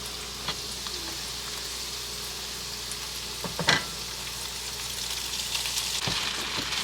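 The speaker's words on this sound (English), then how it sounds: "Now we're gonna put the pasta in the garlic." Pasta tossed into a frying pan of sizzling garlic produces a steady, dense crackle with occasional sharper stirring clatters.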